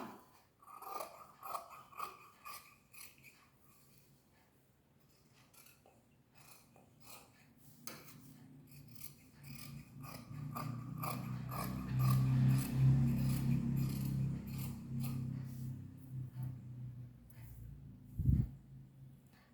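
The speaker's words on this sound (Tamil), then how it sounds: "இப்போ நம்ம கட் பண்ணிடலாம்." Scissors snip through blouse cloth cut on the cross for a neckline piece, a run of quick crisp clicks and shears at first, then a denser, louder rustling cut with fabric handling close by.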